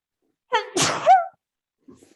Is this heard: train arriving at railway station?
no